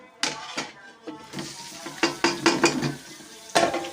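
Beef mince frying in a pan with sharp scraping and stirring clatters, a burst of sizzle under irregular metallic knocks, close by.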